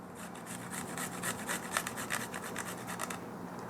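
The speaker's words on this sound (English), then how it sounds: "Now grate the garlic" Garlic rubbed against a hand grater over a ground meat mixture for Persian pan kebab, a quick run of close, rasping scrape strokes in a steady rhythm, with no talk.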